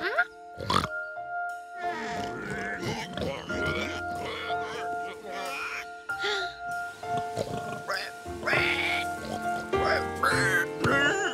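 Cartoon pig oinking and grunting repeatedly in a Curious George episode, several short snorts and squeals mixed with music and other animal-like calls.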